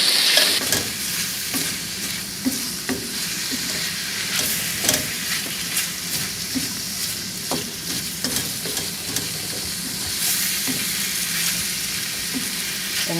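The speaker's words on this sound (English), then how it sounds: "now we're going to cook this until the shrimp looks pink and cooked through" Canned shrimp sautéing in a pan in a sailboat galley, a continuous close sizzle with repeated light scrapes and taps of a utensil stirring through it, no voices.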